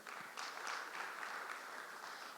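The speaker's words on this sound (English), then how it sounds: "A round of applause for her." Brief, fairly faint applause from a summit audience welcoming a woman CEO onto a panel, a soft steady patter of clapping lasting a couple of seconds.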